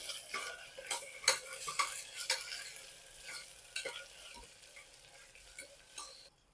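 Ginger-garlic paste and onion sautéing in a pan for a tangy-spicy amaranth dal, with a steady soft sizzle broken by repeated scraping and stirring clinks of a spatula against metal, close and without talk.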